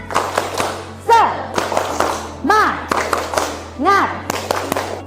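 Students in an Indonesian food-service classroom perform a rhythmic spirit clap, with grouped bursts of claps in a repeating pattern and loud chanting voices between them.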